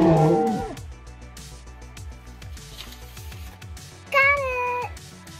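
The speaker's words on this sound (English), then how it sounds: "That's my cat." A house cat gives a single loud, drawn-out meow near the end, following quieter household noise and a brief voice at the start.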